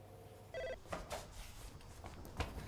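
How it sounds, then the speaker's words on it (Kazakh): A telephone bell rings once in a short burst indoors, fairly faint, followed by quiet room noise and small movements. "Шырылдады ғой телефон жаңа."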